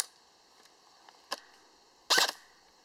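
ECHO 1 Red Star IGOR airsoft gun, fed with BBs and powered by a stock 9.6 volt battery, fires in a quiet room: two faint early clicks, then a sharp snap and a louder, longer crack near the end.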